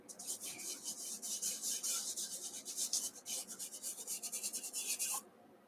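Fingertips rub and blend soft pastel across paper in a quick series of dry, raspy strokes, close and fairly quiet, stopping abruptly near the end.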